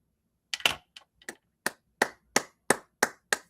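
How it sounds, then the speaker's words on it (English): Single person clapping slowly and deliberately, about nine separate sharp claps in an uneven rhythm, close and distinct against silence. "Clapping for Idaho."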